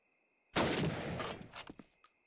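A burst of gunfire from the video game Call of Duty: United Offensive during a competitive match, a loud sustained volley followed by several scattered, separate shots trailing off.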